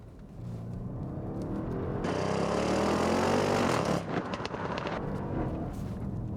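An Audi RS6 C7 in sports mode with manual shifting accelerates hard, its engine note rising into a loud, swelling roar that peaks, then drops abruptly, likely at a gear change, leaving a rumbling burble.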